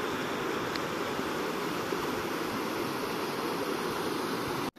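Swollen water rushing strongly after three days of continuous rain, a steady, dense roar of flowing water heard from nearby with no voices, ending abruptly.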